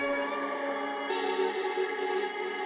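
Sustained vocal sample drenched in vintage reverb with left-right stereo panning and EQ trimming the highs and lows, a steady washed-out tone that shifts slightly halfway through.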